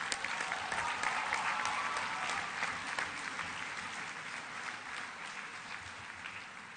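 An audience at a Bernie Sanders presidential campaign rally applauds in a sustained, dense wash of clapping that fades slightly over several seconds.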